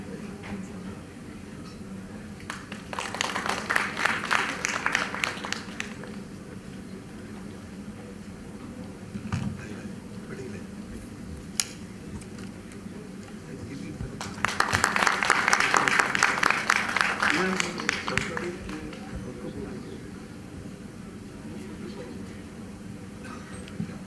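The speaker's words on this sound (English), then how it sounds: "give a hearty round of applause for their contributions" A conference audience at an HR conclave applauds in two separate rounds of dense clapping, each lasting a few seconds, with a quieter stretch of low room noise between them.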